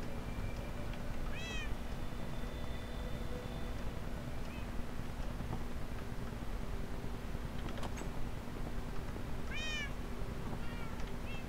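Cats in the Minecraft video game meow twice, a few seconds apart, over a steady background hum, with no voices.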